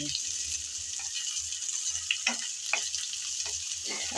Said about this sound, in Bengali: পেঁয়াজ রসুন আর শুকনো মরিচ হালকা ব্রাউন করে ভেজে নেব